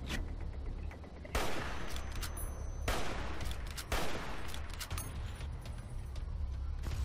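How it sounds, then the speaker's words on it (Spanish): Repeated plasma weapon discharges in Fallout: New Vegas, Lonesome Road: loud crackling energy blasts fire in close succession, roughly every second, over a constant low rumble with no speech. "Mira, mira cómo viene la descarga de plasma."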